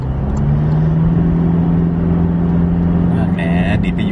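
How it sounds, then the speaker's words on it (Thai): Toyota Fortuner 2.4V 2WD climbing a hill at half throttle, a steady loud engine drone holding constant through the clip with cabin road noise and a brief higher whine near the end. "เดี๋ยวเรามาดูเนินครึ่งคันเร่งกันไหมฮะ"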